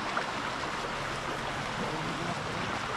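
A strong river current flows in a steady, continuous rushing wash of moderate loudness, with no voices over it.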